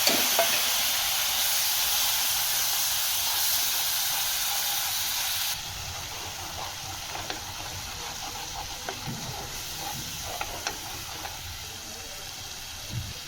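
Spices hitting smoking-hot oil while Aam ki khatti meethi chatni is made: a loud, dense hiss that drops to a softer crackling sizzle midway, with scattered pops and stirring clinks and no voices.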